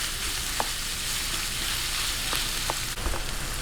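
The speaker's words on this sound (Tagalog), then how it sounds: "gisa-gisahin lang po natin hanggang mag light brown yung ating giniling" Ground meat sautés in a hot pan until light brown, giving a steady, loud sizzle with a few faint clinks of stirring, no voices over it.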